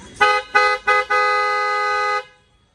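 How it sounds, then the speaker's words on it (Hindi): A Maruti Suzuki Alto K10's aftermarket Creta-type horn honks three short times, then holds one long blast, loud and close, ending abruptly. "हॉर्न का रिस्पॉन्स चेकआउट कराता हूँ"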